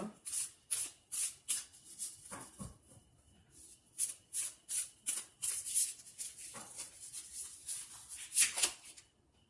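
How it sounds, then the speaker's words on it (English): Tarot cards are shuffled and drawn by hand, giving a series of soft, close papery riffles and flicks in quick rhythmic bursts, with a brief lull and then more rustling and sliding, and no voice. "So let's draw two more cards for you."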